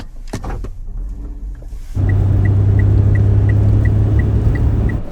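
A kei camper car driving in four-wheel drive on a sub-zero eastern Hokkaido road with possible black ice, a steady close engine and road rumble that rises sharply after a brief quieter start, with faint regular ticking over it.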